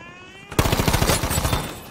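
Rapid automatic fire from an M2 carbine in Battlefield 5 begins abruptly after a short quiet lead-in, a loud, close burst of evenly spaced shots continuing to the end.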